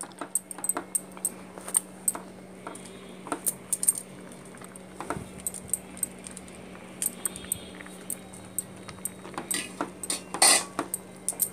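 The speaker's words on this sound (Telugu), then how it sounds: "ఇప్పుడు మనం ఇందాక తీసుకున్న రాగి పిండి కొంచెం కొంచెంగా దీంట్లో పోసుకొని కలుపుకోవాలి." Ragi flour being stirred into soft cooked rice in a pot for ragi sangati, giving a steady series of light clinks and scrapes of a spoon against the pot, fairly close and without talk, over a low steady hum.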